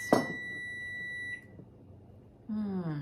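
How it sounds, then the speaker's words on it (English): A kitchen timer beeps with a steady high electronic tone during cooking of roasted cauliflower, sounding for over a second after a brief clatter, then falling silent before a voice starts speaking. "Timer. What's the timer for?"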